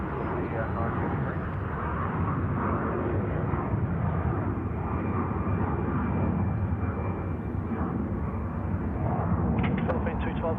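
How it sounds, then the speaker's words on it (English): A Boeing 717 airliner passing overhead at Sydney Airport, a loud, steady low engine rumble and roar sustained throughout, with a voice talking over it. "That 717 almost directly overhead us now."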